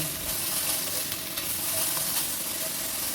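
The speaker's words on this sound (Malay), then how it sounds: "Teruslah goreng isi ayam ni sehingga macam ini dah separuh masak." Steady, dense sizzling of chicken pieces frying in a pan for tom yam, a continuous hiss with faint scraping as it's stirred, no voices.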